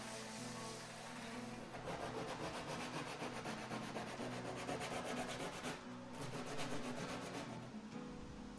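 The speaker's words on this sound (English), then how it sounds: "You can go around the edge of the board with some sandpaper and just take your time and knock all them sharp edges off." Sandpaper rubbed by hand along the sharp edges of a wooden cornhole board, a steady faint scratchy rasp of back-and-forth strokes continuing alone with no voices.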